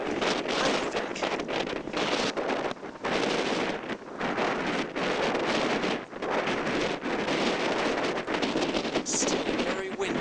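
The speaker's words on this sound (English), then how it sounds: "Still very windy here in Iceland." Strong wind in Reykjavik, Iceland buffets the microphone in a continuous loud roar with gusty surges and brief dips throughout, with no voices heard.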